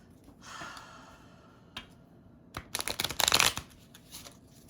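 A tarot deck is shuffled close up, with soft papery riffles early on, then a louder burst of rapid card flutters and slaps toward the end, and quiet breathing in between.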